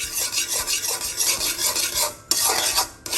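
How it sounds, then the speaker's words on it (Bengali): Semolina is roasted in a pan over medium heat for mango suji kheer, with a loud, close, rhythmic scraping and rasping from continuous stirring that pauses briefly before resuming. "আমি চুলার আঁচ মিডিয়াম করে নাড়াচাড়া দিচ্ছি"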